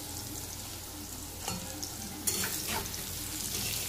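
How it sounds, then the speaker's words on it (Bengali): Food frying in a pan on a home stove, alongside fish frying, gives a steady close sizzle throughout, with a few brief stirring scrapes and pops partway through. "আর এদিকে সব ভাজাভুজি চলছে"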